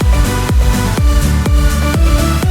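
A full Serum synth arrangement for a remake, with reverb and delay and the lows cut: loud, dense chords over a steady pulsing kick on each beat, continuous and upfront with no voices.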